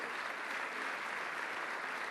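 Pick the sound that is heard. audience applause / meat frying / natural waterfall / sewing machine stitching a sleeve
audience applause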